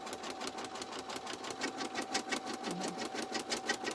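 An embroidery machine stitches a placement line for a vinyl backing piece on an in-the-hoop vertical wallet, making a rapid, steady mechanical chatter of needle strokes that runs evenly and up close, with no talk.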